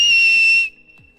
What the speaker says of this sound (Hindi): काफी ऊंची सीटी थी।